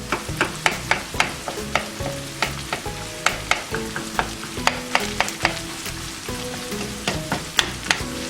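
A metal spatula chops and breaks up ground beef in an aluminum saucepan, with sharp, regular scraping taps against the pan roughly twice a second over a constant sizzle of browning meat.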